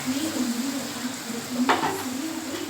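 Onions and tomatoes sautéing in a pan with chilli powder for a mixed dried-fish thokku, a steady close sizzle and frying hiss with brief stirring scrapes near the end.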